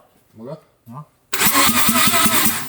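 A Mazda 13B rotary engine fitted in a Lada 2106 cranks loudly and continuously, its starter rhythm pulsing steadily after two brief bursts of talk.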